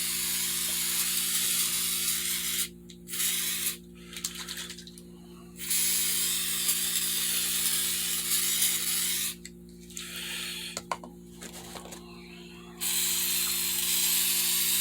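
A continuous aerosol hiss as black Flex Seal rubber coating sprays inside a fiberglass helmet in long bursts, pausing briefly between passes, with a low steady hum underneath.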